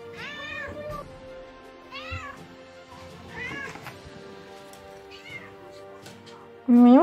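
A cat meows several times in a row, short and close, with a louder, higher meow at the very end.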